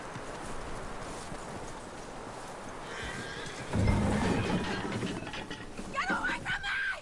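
Horse hooves clip-clop in Red Dead Redemption 2, a steady walking rhythm at moderate distance with ambient game sound and a whinny-like cry, growing busier near the end.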